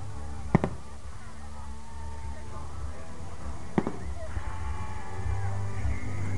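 Firecrackers going off at a park, two sharp bangs standing out against a steady crowd-noise background, with faint crackles afterward and people talking nearby.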